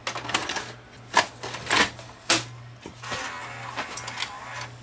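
A Sony SLVR1000 VCR running after power-up, with a steady low motor hum under a series of sharp mechanical clicks and clunks as the tape mechanism threads, close and fairly loud.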